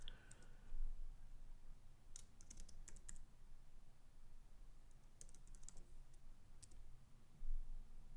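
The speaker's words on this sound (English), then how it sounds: "Let's just type Willard and see what happens." Keys clatter on a computer keyboard in two quick bursts of close, crisp keystrokes separated by a quieter pause, with no voices.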